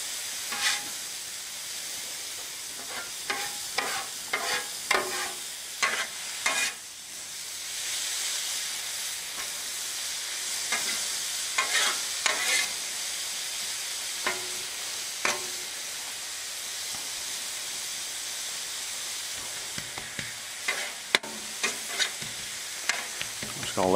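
Zucchini and yellow squash noodles fry on a Blackstone griddle with a steady hiss and sizzle, broken by repeated scraping and clicking as a metal spatula stirs and tosses them, close and continuous without talk.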